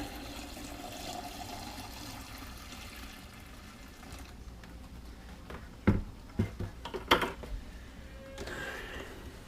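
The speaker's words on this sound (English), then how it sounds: "Plus, I guess I'll show off pouring." Water is poured into calf feeding bottles in a steady, hissing stream, followed by a few sharp clunks and knocks as the bottles are handled.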